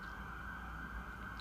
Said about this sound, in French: C'est ça aussi le problème des États-Unis, toujours des sirènes.